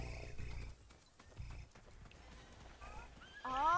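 A horse mount gallops in the Realm Royale video game, its hoofbeats pounding in bursts under game music and effects, ending with a rising musical flourish.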